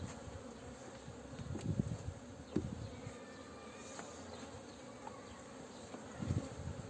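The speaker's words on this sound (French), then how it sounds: "Donc là c'est la ruche, c'est une ruche qui est un peu agressive" Honeybees buzz steadily around an aggressive hive, a dense continuous hum with a few louder close passes as individual bees fly near.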